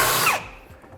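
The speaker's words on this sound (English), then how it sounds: "I'm going to take a 1/2 inch drill bit and I'm going to drill up through the bed" A 1/2-inch drill bit bores up through the bed of a 2017 GMC Sierra 3500 from underneath during an underbed hitch kit install: a loud, close grinding burst that quickly winds down to a faint trailing hum.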